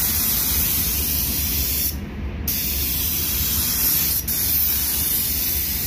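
A spray gun applies blending agent, or binder, during car painting on a pearl white paint job. The hiss is loud and continuous, with two brief breaks in the spray.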